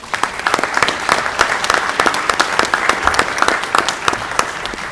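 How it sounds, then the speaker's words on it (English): A round of applause at a Board of Education meeting honouring nominated staff, with dense, steady clapping from a room of people sustained throughout at moderate loudness. "can they get a round of applause?"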